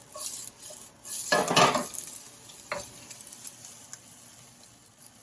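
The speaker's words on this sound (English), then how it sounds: "now I'm going to actually mix it in because I really don't want it to brown at all" Browning garlic is stirred in a pan. A spoon scrapes and clinks against the pan in a few close strokes over a faint, steady sizzle, and no one speaks.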